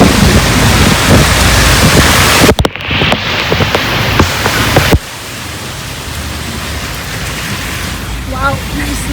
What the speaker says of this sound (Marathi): फायनली पाऊस आलेला आहे, ज्याची आम्ही वाट बघत होतो